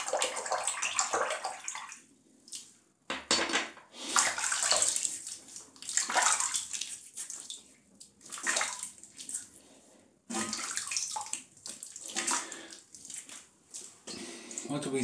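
Giesen and Forsthoff safety razor rinsed under running tap water: close splashing and gushing that comes and goes in bursts with short pauses, a voice speaking faintly at times.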